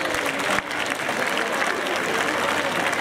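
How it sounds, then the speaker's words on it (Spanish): Loud, dense applause from an audience at a school farewell ceremony for graduating students, continuous crowd clapping with a brief dip near the start, then steady to the end. "Un fuerte aplauso para estas alumnas."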